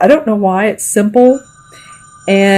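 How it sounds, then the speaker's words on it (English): A telephone rings behind someone talking during a tarot card reading, its steady high-pitched electronic ring running under her speech and standing out in the pause between her words. "excuse the phone ringing."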